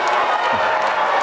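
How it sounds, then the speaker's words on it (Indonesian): Studio audience at a televised presidential debate breaking into broad applause and crowd noise, a dense continuous wash of clapping filling the moment with a voice faintly underneath. "Kita boleh tepuk tangan dulu."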